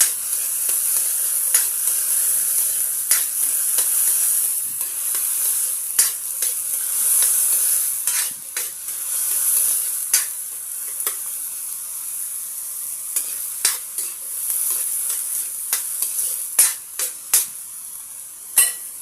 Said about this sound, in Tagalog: Stir fry upot kalabasa guys.